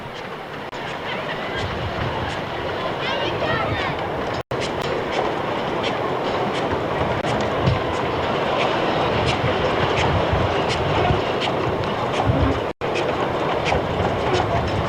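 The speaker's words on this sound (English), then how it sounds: "The sight of this perfect little loco working its way through the treetops across this old trestle bridge is one to behold" A small old locomotive crosses a timber trestle bridge in Tasmania, giving a steady, fairly loud rumble with a rolling clatter that holds for the whole stretch apart from two very brief dropouts.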